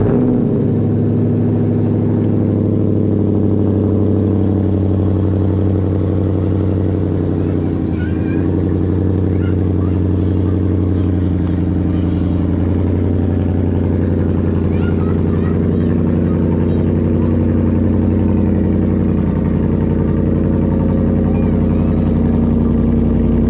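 A car engine hums and revs steadily while driving, with strong low droning tones throughout and brief faint clicks and mechanical noises mixed in, no talk audible.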